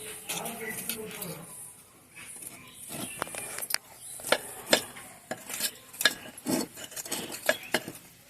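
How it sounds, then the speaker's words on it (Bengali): Soil loosened by hand around the base of potted chrysanthemum plants, giving scattered scraping and gritty scratching bursts with a few sharp taps, close by, as a person talks over it. "গাছগুলোর এই গোড়া থেকে আমি হালকা করে একটু মাটিগুলোকে একটু খুঁজে নেব"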